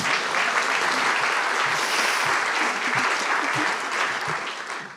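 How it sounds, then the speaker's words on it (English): A big round of applause from a conference audience at a health data sharing plenary, loud, full and sustained clapping that tapers off in the final moments. "let's give her a really big round of applause"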